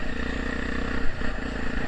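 A Honda Tornado motorcycle with a Protork exhaust and its packing removed idles close and loud, a rough crackling rumble with uneven pops and a brief bump in level midway, without talk.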